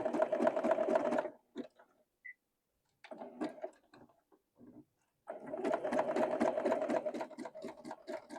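Sewing machine zigzag stitching lollipop shapes together, running in bursts: a long run, short stops and starts, then another steady run, close and clear with no speech.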